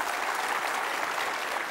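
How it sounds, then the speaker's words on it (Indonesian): A studio audience at the Mata Najwa talk show applauds Saud Situmorang with a dense, even wash of clapping that holds at a steady level throughout, with no voices over it. "Kasih tepuk tangan dong Saud Situmorang."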